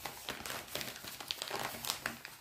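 Plastic packaging of a cross-stitch kit crinkles and crackles as it is opened, busy close rustling that runs unbroken with sharp little crackle bursts throughout, and no voice over it.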